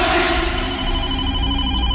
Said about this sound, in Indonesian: Baru saja aku tutup, telepon itu berbunyi lagi.